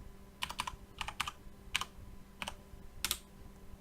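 Rapid clusters of keystrokes on a computer keyboard as a password is entered, crisp clicky taps in short irregular bursts with brief pauses, close and alone.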